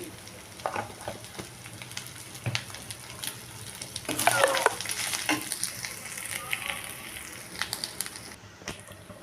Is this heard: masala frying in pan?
yes